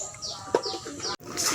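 Pet birds, pigeons or doves, cooing nearby in soft repeated calls over a steady background hiss, with one brief sharp sound partway through.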